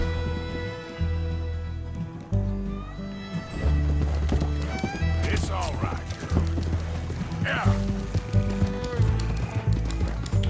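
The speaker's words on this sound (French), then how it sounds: "Putain, puis c'est quoi ce cheval de merde?" Hooves from a horse in Red Dead Redemption 2 clip-clop in a running rhythm, close and prominent over a music bed, with several whinnies and snorts breaking through.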